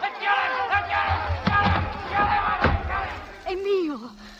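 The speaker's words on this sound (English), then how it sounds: "The crowd. They're after me." An angry mob shouts and jeers in an old radio drama, with several loud overlapping voices bursting in uneven waves and a thump or two close by, before a single voice rises clearly at the end.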